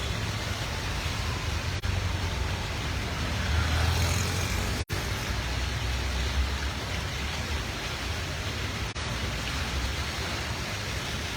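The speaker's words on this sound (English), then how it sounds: "This na just rain wey come" Steady morning rain falling on a street in Freetown, Sierra Leone, a dense constant hiss with traffic-like rumble underneath and a few faint clicks, no voices.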